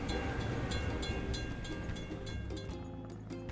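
A train rumbles steadily past a closed crossing in a truck video game, a dense continuous rolling noise at close range that eases slightly toward the end, with no voices.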